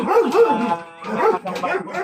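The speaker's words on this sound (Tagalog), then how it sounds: "Anong aso po yan? Ito yung kangal." Kangal dogs barking at a kennel, a few close, loud barks and yelps in quick succession, with people speaking in the background.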